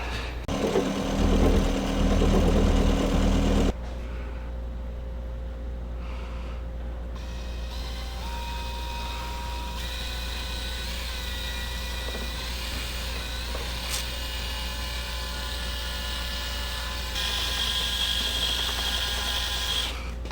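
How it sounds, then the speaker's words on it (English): A large power mixer churns Herculiner roll-on bed liner in a container, a steady close motor whine that holds throughout with a louder burst at the start and a slight rise near the end. "Let's get the big old mixer out."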